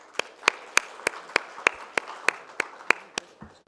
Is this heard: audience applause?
yes